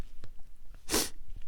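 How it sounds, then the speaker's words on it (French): A single sharp, loud sneeze bursts out close up during a math lesson, a brief explosive puff surrounded by quiet room noise and soft breathing. "Je vais éternuer dans pas long."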